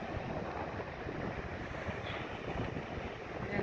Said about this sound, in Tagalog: Kita mo yan. Maalon siya guys oh. Maalon dito.